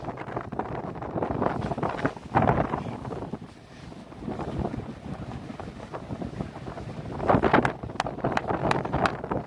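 Strong wind gusting on a freezing day outdoors in New York City, buffeting the microphone with loud, uneven rumbling and roaring that swells and eases, with no talking.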